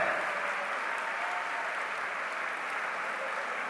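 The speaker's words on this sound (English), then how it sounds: "A huge round of applause for all the Interfaith leaders." Audience applause for interfaith leaders as they take the dais ahead of the Dalai Lama's talk on world peace and harmony, a steady, dense wash of many hands clapping that holds evenly throughout.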